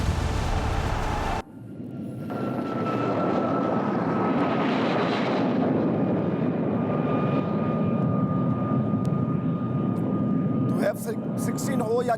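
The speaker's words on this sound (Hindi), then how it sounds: "जो पाकिस्तानी फाइटर जेट्स से उन्होंने उड़ान भरी और कैसे उन्होंने एयर स्ट्राइक किया" Pakistani F-16 or JF-17 fighter jets fly past in a steady, loud roar that swells and holds for several seconds, with an abrupt start after a brief different sound and clicks near the end; background voices may be faint.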